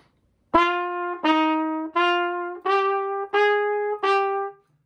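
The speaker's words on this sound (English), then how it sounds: "And you'll get something that sounds a little like this, just on your saxophone." Six separate sustained tenor saxophone notes, each cleanly tongued with a short gap between, steady in pitch and strong, played alone.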